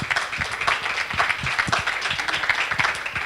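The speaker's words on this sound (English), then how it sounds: "I think we should give social media a round of applause for having a heck of a show too." An audience at a business talk on social media gives a steady round of applause, dense and even clapping from many hands throughout with no speech over it.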